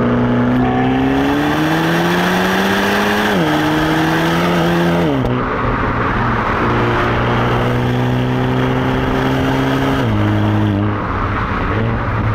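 Renaultsport Megane 300 hot hatch driven hard on a road, its engine loud and close as it accelerates through the gears, with rising revs and clear drops at each shift.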